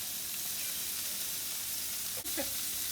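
Shrimp sizzle and fry in a hot pan with a steady, close hiss, broken by a brief clatter near the end.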